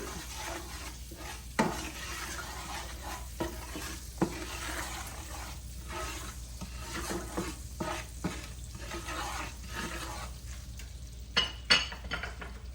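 Oil in a pot seasoned with all-purpose seasoning and black pepper for Jamaican-style callaloo rice, stirred around with a low, gentle sizzle and occasional sharp utensil clicks against the pot.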